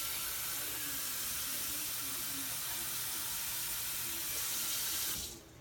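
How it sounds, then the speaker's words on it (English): Tap water pours steadily into a cooking pot for cabbage soup, a broad continuous rushing hiss that holds even and then cuts off abruptly near the end. "I'm going to fill this up with water"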